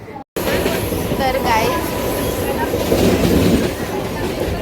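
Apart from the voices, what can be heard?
train moving, heard from inside a carriage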